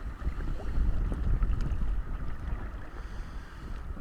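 A small dinghy rocking on the sea at night, low rumbling wind and water buffeting close to the microphone, with faint creaks and knocks from the boat.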